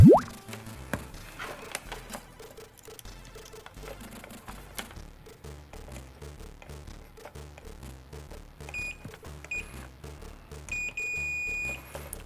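A multimeter beeps during continuity testing while a 1978 Mattel Electronics Battlestar Galactica Space Alert handheld game is repaired. Clicks and clatter run throughout, short beeps come near the end, and a sustained steady tone closes it.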